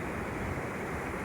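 Sea waves wash onto the beach at Peunaga Pasi, a steady broadband rush of surf with no distinct breaks, moderately quiet and continuous throughout.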